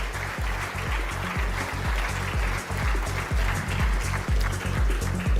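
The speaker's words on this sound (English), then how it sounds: "I'd request a warm round of applause and a big thank you." Audience applause at an award ceremony honoring a state chief minister, a dense continuous roar of clapping in a large hall, with low rhythmic thumps running beneath it.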